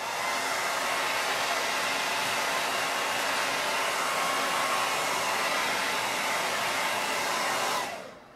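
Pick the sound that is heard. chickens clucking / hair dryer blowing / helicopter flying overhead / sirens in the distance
hair dryer blowing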